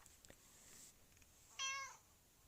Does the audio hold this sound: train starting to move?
no